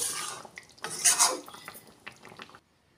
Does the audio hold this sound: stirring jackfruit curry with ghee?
yes